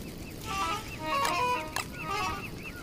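A bird in Don't Starve makes several short clucking calls in small clusters over a steady background hum. The calls are moderately loud and no one talks over them.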